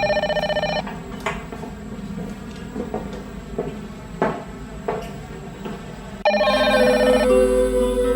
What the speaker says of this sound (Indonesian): saya angkat telepon dulu ya